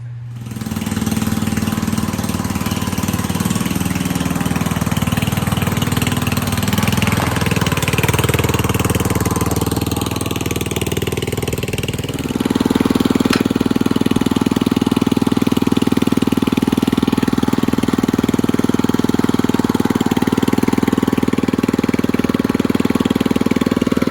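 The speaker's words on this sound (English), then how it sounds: "So I'll bring you back when we fire this thing up, take it for a drive." An 87-year-old Ford engine fires up and settles into a loud, steady idle close by, its low rumble continuing for the whole stretch and rising slightly partway through, with no voices over it.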